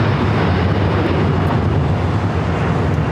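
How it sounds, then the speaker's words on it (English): El Al Boeing 787-9 Dreamliner taking off at LAX, a loud, steady broadband jet roar that stays near and constant throughout, with no voices. "This is El Al Flight 6 taking off to Tel Aviv on the 787-9 Dreamliner"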